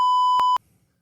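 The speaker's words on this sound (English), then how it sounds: "I couldn't hear you over the beep." A steady electronic censor beep, a pure loud tone with two brief breaks, holding for about half a second before cutting off sharply into near silence.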